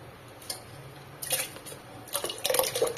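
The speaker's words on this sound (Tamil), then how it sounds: "இப்போ குக்கரில் நான் ஆறு டம்ளர் தண்ணி சேர்த்துக்கிறேன்" Water poured from a tumbler into a pressure cooker holding soaked rice and dal for bisibelebath, a few splashy bursts with metallic clinks of the vessel, close and moderately loud against a quiet kitchen.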